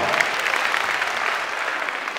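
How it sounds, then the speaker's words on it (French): Steady applause from a ceremony audience, a dense continuous patter of many hands clapping, loud and sustained throughout with no talking over it. "Madame Aïssata, que je demande d'applaudir très très fort"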